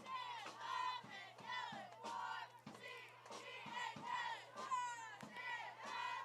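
At a high school football playoff game between Canton-Galva and Doniphan West, the crowd chants along with a state championship cheerleading squad in loud, rhythmic, repeated shouted calls.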